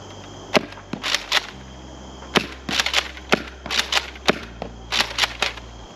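A Nerf blaster fires foam balls on an outdoor range, a series of sharp close pops in quick bursts of two or three, separated by short pauses, over a steady low hum.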